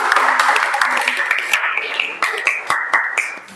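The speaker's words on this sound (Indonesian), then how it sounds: "Tepuk tangan semuanya." Scattered classroom applause from students after a group presents a math answer, loose and uneven claps under a busy background of voices and chatter.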